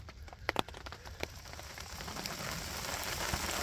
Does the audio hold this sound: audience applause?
no